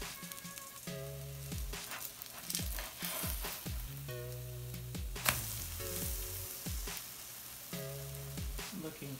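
Pancake batter sizzling and frying in a pan after being flipped, a steady crackling hiss with some scraping clatter and background music tones.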